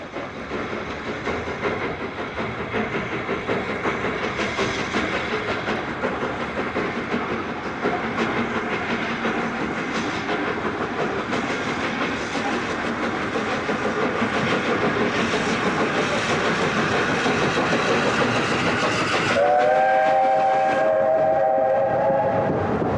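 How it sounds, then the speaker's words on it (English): British steam locomotive, the solitary 8P, runs loudly with a steady rumbling chuff and rail clatter, then sounds a sustained whistle near the end. "It's now probably the most advanced British steam locomotive ever."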